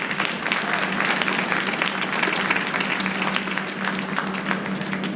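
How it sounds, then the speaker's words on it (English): An audience at an HBCU Day panel discussion applauds in a dense, steady wash of clapping that holds at an even level throughout, with a faint low hum underneath. "let us all give that effort a round of applause"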